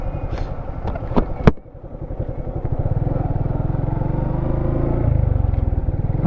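A motorcycle rides along a damaged road near the Teesta Barrage in Nilphamari, its engine droning steadily and close throughout, with a few sharp clacks and a bump early on before the rumble settles into an even, continuous hum.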